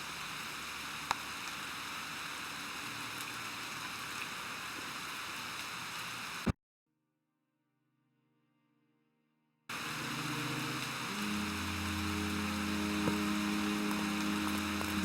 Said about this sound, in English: The rain lashes at the granite ridge, wearing down the old rock, its form reshaped decade after decade.